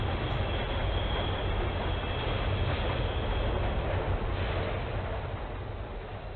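A freight train rumbles steadily in the horror video game Train 113, a dense, continuous roar of rolling wheels and rattling cars, loud and close throughout without talk.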